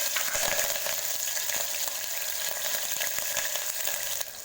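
Whole spices (cinnamon, cloves, cardamom) with green chillies frying in hot oil for a beef gravy, giving a steady close crackle and sizzle with small pops throughout, no voices.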